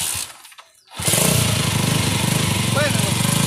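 A motorcycle sputters and cuts out briefly, then fires up at about one second into a steady, buzzy idle that runs loudly to the end, with a voice faintly present.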